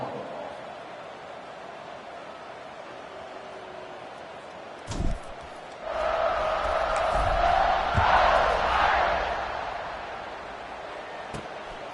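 Stadium crowd at a Navy football game, a low distant murmur that swells into a broad sustained roar of cheering after a sharp thump, then slowly fades back down.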